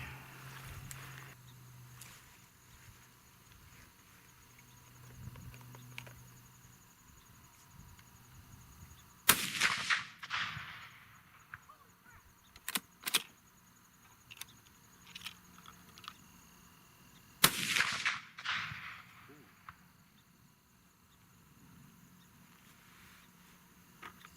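A Savage 220 shotgun fires Remington-Barnes slugs outdoors: two loud sharp reports about eight seconds apart, each followed by a decaying echo, over faint background noise.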